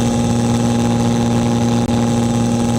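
Truck engine holding a steady drone around 2,200 RPM with overdrive engaged, a constant humming tone with strong low harmonics and a brief dropout near the end, no voices.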